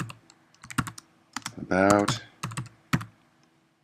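Typing on a computer keyboard with scattered key clicks and a short burst of fast keystrokes, heard close and under a few brief spoken words.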